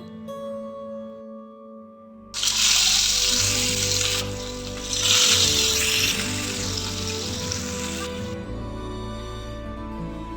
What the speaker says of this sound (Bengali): আর এবারে কড়াইতে সাদা তেল দিয়ে মাছগুলো ভেজে নেব